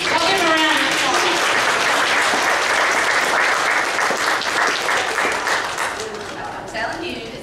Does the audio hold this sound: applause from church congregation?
yes